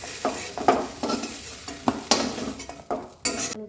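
Green cardamom pods and cinnamon sticks hit hot oil in a pan, giving a crackling sizzle broken by several sharp spatters and stirring scrapes of a utensil against the pan, fairly close.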